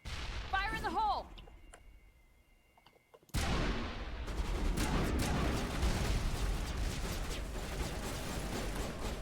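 A grenade going off in the Mass Effect video game: after quieter sci-fi tones and a near-silent pause, a sudden loud blast at about three seconds gives way to sustained rumbling combat noise, with voices talking over it.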